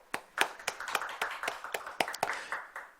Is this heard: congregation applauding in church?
yes